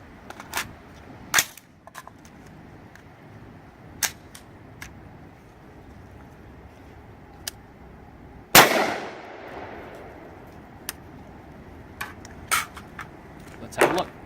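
A single sharp .223 rifle shot, a 75 grain hollow point striking a steel panel, cracks loudly at mid-clip and rings out with a decaying tail, amid scattered sharp clicks and outdoor background noise.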